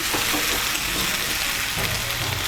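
Hot water poured into a pan of simmering jackfruit and potato curry, a steady hissing sizzle and splash that holds at even loudness throughout, with no voices.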